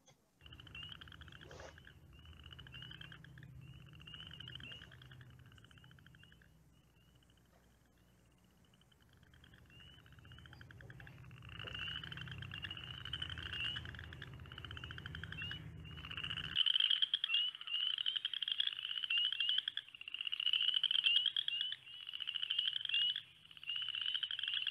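Midland chorus frogs calling in a dense outdoor chorus with spring peepers, a steady rising trill repeating throughout, growing louder and more intense in the second half, with no voices.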